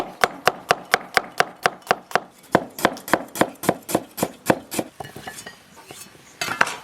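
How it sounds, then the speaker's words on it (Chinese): Ginger, garlic and chilies being sliced with a knife on a cutting board, a rapid, even run of sharp close knocks that grows looser and more scattered toward the end. "姜蒜切片儿"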